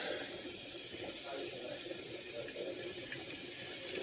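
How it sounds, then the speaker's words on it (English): A steady, soft hiss of air escaping under pressure from a pressure canner venting while canning venison, faint and continuous throughout, with no pauses. "there you can actually hear that there was air coming out"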